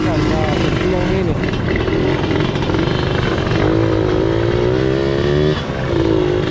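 A two-stroke motorcycle accelerates on the road while touring, its buzzing engine loud and continuous and rising through revs, with riders talking over the engine.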